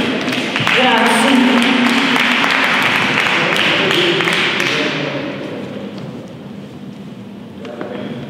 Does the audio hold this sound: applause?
yes